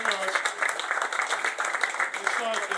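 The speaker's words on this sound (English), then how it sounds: "Could we have a round of applause for?" A crowd claps for Senate candidates at a small town fireside chat, moderately loud scattered clapping with a talking voice running over it throughout.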